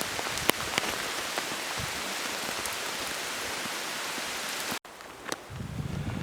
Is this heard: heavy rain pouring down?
yes